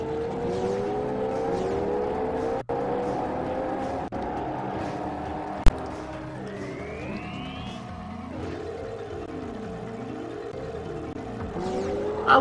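A zoomer hover vehicle hums along in Jak and Daxter, a steady engine drone that rises and falls in pitch as it speeds up and slows, with a few sharp clicks and a brief impact along the way.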